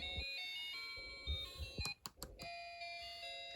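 Electronic Christmas song melody from a Snap Circuits Extreme SC-750 kit: a thin, beeping tune of steady tonal notes, briefly interrupted midway by a few sharp clicks before the melody resumes.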